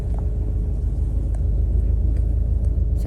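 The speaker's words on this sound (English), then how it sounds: "using your start and stop function, you can hear the car come to life." A Volkswagen Golf R 4Motion with a 2.0 TSI 300 PS engine and automatic gearbox idles after starting, a steady, close low rumble with faint ticking, no speech.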